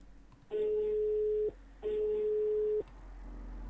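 A telephone in a video game sounds two long, steady electronic tones in a row, each about a second long with a short gap between, over a quiet background.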